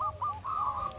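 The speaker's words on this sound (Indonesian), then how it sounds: "akan lebih baik lagi jika perkututnya itu suaranya itu asli dari burung perkutut" A zebra dove (perkutut) coos in a short, clear phrase of soft, rolling notes, close and alone over a faint low background hum.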